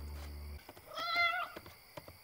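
A cat gives a single drawn-out meow, moderately loud and close, after a brief low hum and some faint clicks, then quiet returns.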